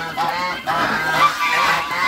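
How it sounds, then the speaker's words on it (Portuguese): A farm turkey gobbles in a loud, close burst of rapid warbling calls, pausing briefly, then rattling on again for about two seconds with no talking. "Ó o peru, gente."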